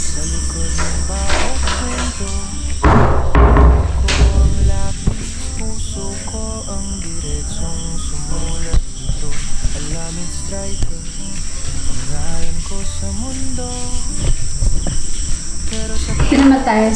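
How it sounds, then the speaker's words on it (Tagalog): Crickets and other insects chirp loudly and continuously at night inside a house, a dense high-pitched drone. Background tones and voices run underneath. "Napakadaming insekto."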